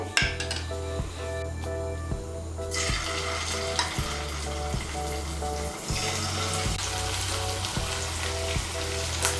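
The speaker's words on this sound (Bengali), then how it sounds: "এখন আমি চিকেনের টুকরোগুলো ভেজে নেব।" Cornflour-coated chicken pieces fry in hot oil for chilli chicken, a steady bubbling sizzle running under a loud rhythmic music track with a repeating beat and melody throughout.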